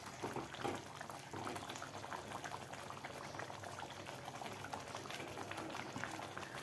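Puli inji, a thick tamarind and ginger mixture with fenugreek and asafoetida powder, bubbling and simmering in a pan. A steady, close, dense wash of burbling and popping runs throughout with no talk.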